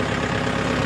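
A tractor engine idles steadily after being started, a continuous low rumble with a mid-range hum and no breaks, loud and close, with no talk over it.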